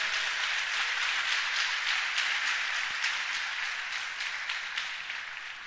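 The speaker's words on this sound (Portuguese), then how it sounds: "Aplauda-o porque ele é merecedor." A church congregation applauding: dense, steady clapping from many hands filling the room, holding strong throughout and easing slightly toward the end, with no talk over it.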